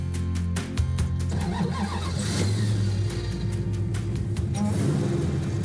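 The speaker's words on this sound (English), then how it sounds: "getting ready to take out the Superbird with the Hellcat engine for the first time" A Plymouth Superbird fitted with a Hellcat engine cranks and fires up, the loud, close engine catching into a rough, rumbling idle with a rising rev, running continuously.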